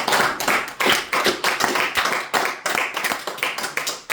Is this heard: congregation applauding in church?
yes